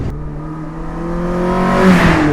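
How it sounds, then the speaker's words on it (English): A Mazda MX-5 Mk1 (Miata/Eunos) SR Limited drives up, engine note rising as it accelerates toward the microphone, induction roar shifting to a raspy exhaust, loud and close with no talk. "you get to hear the induction as it comes to the camera, and then the exhaust from behind, and it's got that sort of like Japanese rasp to it"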